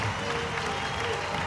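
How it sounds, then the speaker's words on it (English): Applause from an ice hockey crowd for a player during an Aladdin Cup game, a steady sheet of clapping with faint cheering mixed in, heard at a distance under the arena ambience. "Crowd showing their appreciation to Chris Frank."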